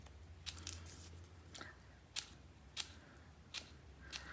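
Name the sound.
small pointy scissors fringe cutting paper circle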